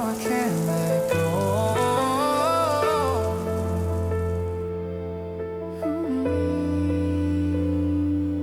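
Rain falls in the Wuthering Waves video game as a constant soft hiss beneath sustained musical tones that dominate the scene.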